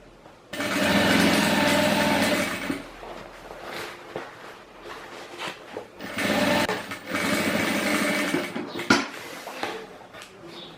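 A sewing machine stitches the lining of a handmade bag in several bursts of rapid, whirring motor noise, close up, separated by short quiet pauses and small handling clicks.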